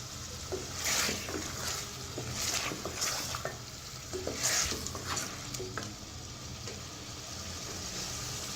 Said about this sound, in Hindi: ये रेसिपी चिकन की मैं मसाला भून के तैयार कर रही हूँ।